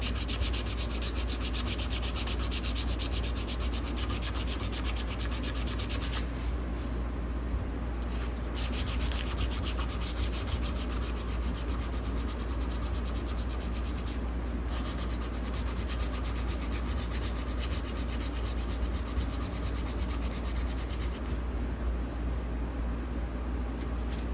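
A knife blade is hand sanded to remove grind lines, a steady continuous rasping rub with even back-and-forth strokes, close and fairly quiet, with no talking.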